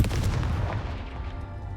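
Confringo fire-blast spell in Hogwarts Legacy: a loud, booming burst at the start that rumbles and fades over about two seconds, with no talking.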